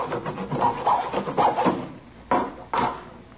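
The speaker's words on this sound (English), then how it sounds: "he was sawing on a piece of plywood with a hacksaw" A hacksaw cutting through plywood as a radio drama sound effect, heard as a series of close, scratchy rasping strokes of uneven length, the last two short and sharp after a brief pause, with no talking.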